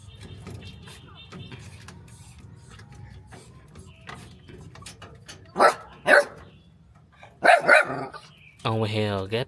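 A frightened male dog in a box barks a few short, sharp times close by, the barks arriving in two pairs over low mechanical background noise, with a brief rising whine near the end.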